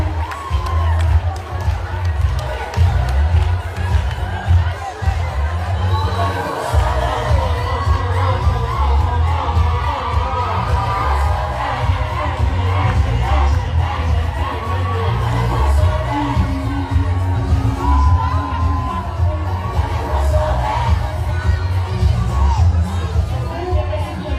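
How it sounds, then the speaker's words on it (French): A graduation crowd applauds and cheers the new graduates, a loud, dense mass of clapping mixed with shouts, whoops and children's voices, sustained throughout with a booming low rumble of the large gathering. "On applaudit les gradués."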